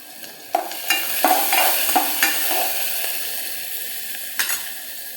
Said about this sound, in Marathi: तेल टाकले, कांदा परतायला टाकलाय.